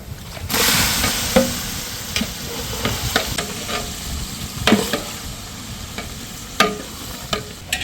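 Chicken pieces hitting a hot pot outdoors for chicken biryani, a sudden loud sizzle followed by steady frying hiss and repeated scraping stirs of a spoon, close up with no talk.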